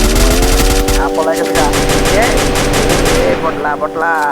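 Rapid automatic gunfire in a shooting video game, dense bursts of shots over a steady background, with a voice talking underneath.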